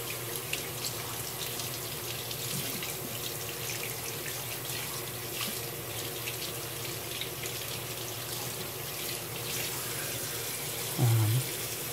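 Tap water runs steadily into a sink, rinsing a part during anodizing, in a constant splashing hiss, with a brief low thump near the end.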